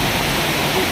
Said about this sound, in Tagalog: Ulan, naabutan si Kuya ng ulan.